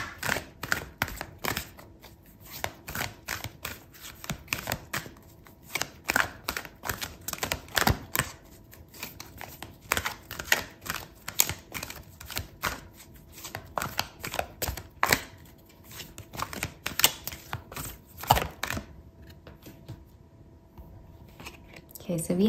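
Tarot cards are shuffled by hand for a long stretch, a dense run of close, crisp flicks and taps that slows briefly near the end.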